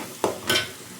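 Onions sauté in hot oil for a crab curry, with a short stirring scrape and a soft, brief sizzle close by.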